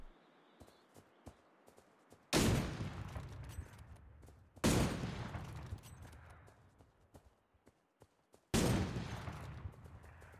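Three loud rifle shots ring out in the video game Cyber Hunter, well spaced, each a sharp crack with a long decaying tail over faint background game sounds.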